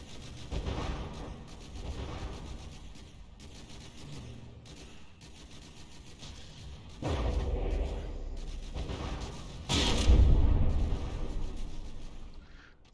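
Naval shells strike a frigate's armored turret in the game From The Depths: a string of heavy booming impacts and rumbling bursts, with two loud surges of explosions near the middle and later, over continuous battle noise.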